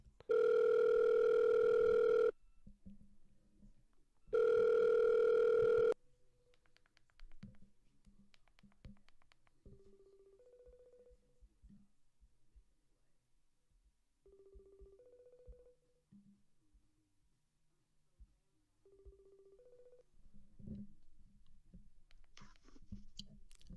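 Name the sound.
telephone dial tone while calling a guest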